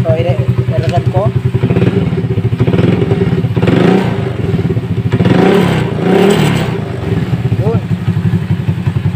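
Rusi 100 motorcycle engine idling with its silencer fitted: a steady, close, chugging putter with slight surges, running continuously while someone talks over it.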